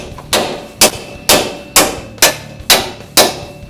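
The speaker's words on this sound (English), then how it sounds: "You may need a little help from the mallet to get the bolt all the way in." A mallet tapping a lower strut bolt into the control arm of a 2009–2012 Ford F150 4x4 during shock and strut replacement: seven sharp, evenly spaced metallic hammer strikes, close and loud, with no talk.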